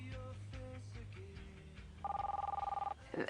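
A telephone rings for an incoming call on a radio advice show, with a short burst of rapidly trilling electronic ring coming after a moment of low background sound and voices.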